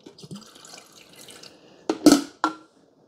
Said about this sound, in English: I'm just going to pour it into the carafe.